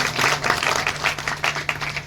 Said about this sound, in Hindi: एक बार जोरदार ताली बजा करके